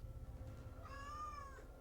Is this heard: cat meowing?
yes